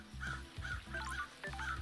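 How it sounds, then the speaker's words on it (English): Several crows caw in quick succession in the video game Paradise Killer, harsh repeated calls over a low rumbling game backdrop, fairly close and loud. "Ooh, crows. Lots of crows."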